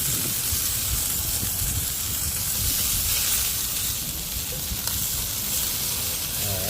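Lamb chops sear in a hot pan with a steady, loud, even sizzle and crackle that holds throughout, with no talking.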